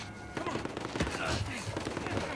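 A few scattered shots ring out amid busy combat noise in Uncharted 4: A Thief's End, with sharp cracks standing out against a restless, fairly quiet background.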